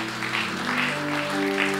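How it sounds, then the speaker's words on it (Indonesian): A church congregation applauding during a sermon, a dense, steady wash of clapping from many hands filling the room, with a sustained tone underneath. "Tepuk tangan bagi Allah kita."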